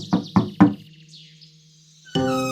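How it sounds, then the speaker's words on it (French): Three quick knocks on a wooden door in an animated children's story, crisp and close, followed by a short musical sound effect. "frappa à la porte"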